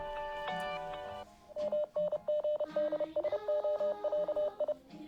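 An old phone taking an incoming call from the number 444 gives off a quick run of electronic dial-style beeps in short, evenly spaced bursts, loud and close, after a brief tonal chime at the start.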